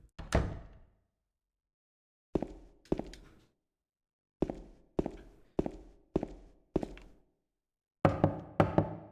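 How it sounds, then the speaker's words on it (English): Knocking on a door in the Silent Hill 2 video game, heard as one heavy knock followed by several separate clusters of loud, near thuds spread across the clip, with silence between them and no talk. "Knock on the door, but there's no answer."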